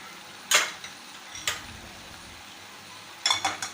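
Red masala and garam masala being sautéed for Malvani misal, heard as a few sharp metal spoon clinks and scrapes against a pan, spaced out with quiet gaps between, close by with no talking.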